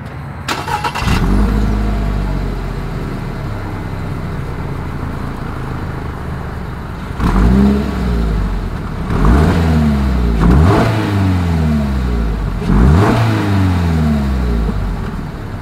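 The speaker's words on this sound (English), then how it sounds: "here is that exhaust clip" A 2022 Toyota GR86 sports car idles with a low exhaust rumble, then is revved hard several times in a row, each rev rising sharply and falling back.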